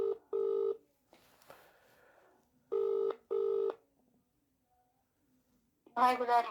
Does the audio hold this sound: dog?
no